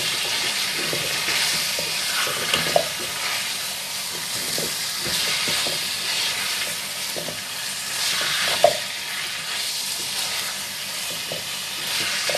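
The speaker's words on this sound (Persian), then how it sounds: "گوجه سبز رو تو همین مرحله بهش اضافه میکنم و یکم گوجه سبز رو با گوشت تفت میدم" Green plums sautéed with chicken in a pot for a Persian stew, a loud steady hiss of frying with stirring scrapes and a couple of sharp knocks against the pot, no speech.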